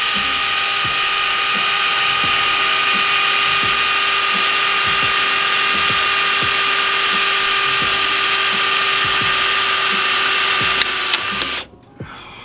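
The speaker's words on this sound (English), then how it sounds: "drill this hole out with the drill bit" A power drill whines steadily at high pitch for a long stretch, drilling a hole for side skirts on a Mazda Miata, close and loud, then stops abruptly near the end.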